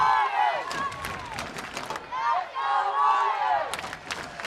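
Visiting-section crowd at a high school football game, a loud roar of cheering and voices rising and falling in waves, with hands clapping in places.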